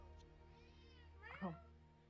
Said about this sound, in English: eventually you hear a cat in the distance